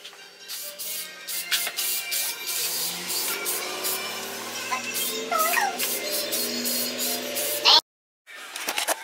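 A spray paint can hisses in long bursts as a wiper motor is coated blue, the spraying close and steady with brief pauses, then a sudden cutoff near the end.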